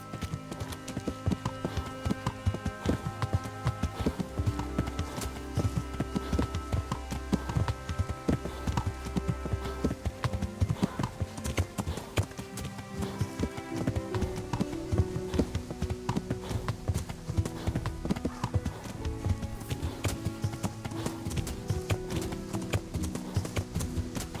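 Horse hooves gallop in Kingdom Come Deliverance, a steady, rapid clip-clop that runs continuously for over twenty seconds beneath a busy layer of music.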